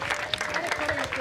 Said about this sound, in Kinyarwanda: bravo ubaha amashyi